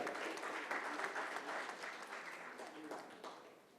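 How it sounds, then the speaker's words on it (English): Steady applause from an audience, clapping continuously for a few seconds and slowly tapering off. "Can we have a big round of applause for him?"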